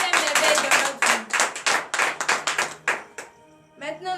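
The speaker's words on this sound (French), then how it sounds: "nous allons donner de vives acclamations à l'Éternel pour ses merveilles dans notre vie" A church congregation at a Saturday morning prayer service in Benin claps in acclamation in steady, rhythmic bursts with voices mixed in, ending in a brief lull and a sung or spoken tone.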